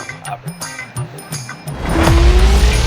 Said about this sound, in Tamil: வண்டி எடுத்து ஸ்டார்ட் பண்ணியாச்சு மக்களே